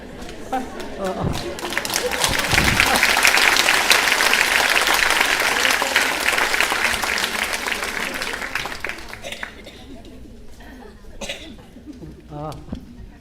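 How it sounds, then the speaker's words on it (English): An audience claps during a talk, building into dense applause that peaks after a couple of seconds and then thins out, with a few scattered claps and voices near the end. "What does the clap mean?"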